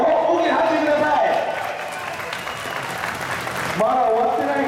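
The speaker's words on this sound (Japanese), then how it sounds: "待ってたぞという皆さん、大きな拍手ください" A stadium crowd at a 2013 JFL football match applauds, a broad roar of clapping and cheering rising in the middle while an announcer's amplified voice speaks before and after it.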